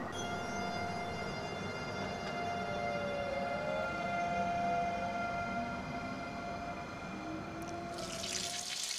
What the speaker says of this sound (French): j'ai vraiment envie de repartir comme ce train qui quitte la gare